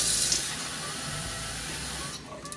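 Water splashes and pours steadily into a cooking pot, a continuous close rushing that fades out near the end.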